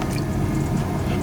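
Coolant pours steadily into the cooling system of an S15 truck, giving a continuous close gurgling fill with soft liquid splashing.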